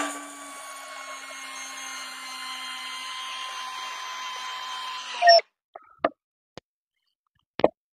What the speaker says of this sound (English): Now the biggest task we're going to ask any of them to handle today is an 8-inch timber lock screw.